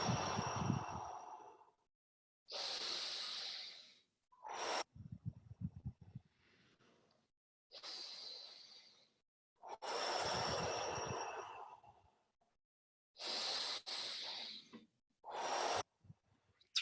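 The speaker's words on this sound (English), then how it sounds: "So please keep on breathing." Deep, rhythmic breathing during a breathwork exercise: long, loud inhales and exhales, some with a rough, snorting edge, repeating in cycles with short quiet gaps between them, close to the microphone.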